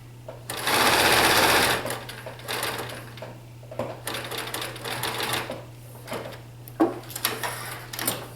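A sewing machine stitches a T-shirt seam, opening with a loud sustained run of rapid needle chatter, then continuing in shorter intermittent bursts with small pauses, close and clear.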